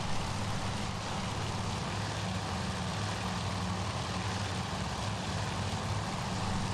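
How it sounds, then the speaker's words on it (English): Steady propeller aircraft engine drone of F-4F fighter planes flying in a video game, a continuous low hum with broadband rush holding level throughout, no voices. "You currently find yourself in the middle of a flight of F-4Fs, which are in the midst of trying to take down a Japanese raid."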